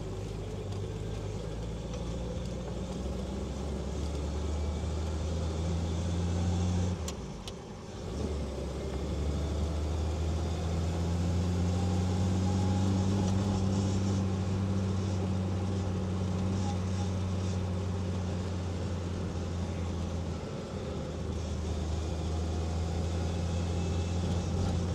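A 1952 Delahaye 235 classic car with Antem Targa bodywork drives along a rough country road, its engine droning steadily and close throughout with a brief dip partway, without power steering.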